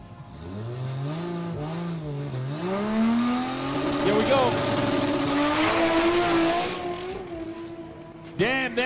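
A 2JZ-engined Toyota Supra on a no-prep drag strip roars through rising gear pulls, the engine note climbing and dropping with each shift, loud and sustained, with a voice talking faintly underneath.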